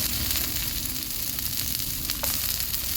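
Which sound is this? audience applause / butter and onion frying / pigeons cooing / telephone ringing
butter and onion frying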